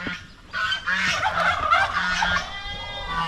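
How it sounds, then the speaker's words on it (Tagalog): Domestic geese and turkeys kept in their pen on a backyard farm honk and call loudly and continuously, several birds overlapping close by. "hindi na natin pinalabas yung ating mga gansa at saka pabo"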